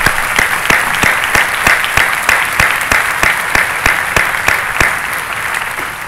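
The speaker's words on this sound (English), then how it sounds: "I'd like to give them a special round of applause to our musicians" Sustained, dense applause from a large commencement audience honoring the musicians, a full round of clapping with sharp, regular claps standing out and no voices over it.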